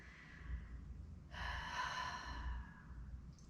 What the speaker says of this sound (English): Close the eyes, take a breath.